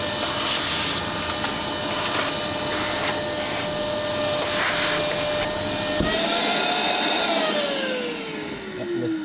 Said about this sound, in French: On peut passer un petit coup d'aspirateur.